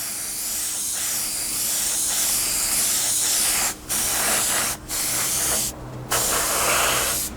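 Airbrush or spray gun laying a fourth coat of paint onto a 1/48 Tamiya P-51D Mustang model, a steady close hiss of spray broken by three short pauses, then resuming.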